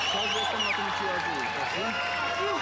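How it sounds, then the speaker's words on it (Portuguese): Crowd applause at a wushu championship arena: a steady wash of clapping from a large audience beneath a commentator's voice that stays on top throughout. "The crowd giving a big round of applause"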